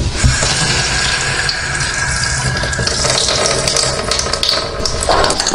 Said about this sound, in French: ouvrir un robinet rapidement et le refermer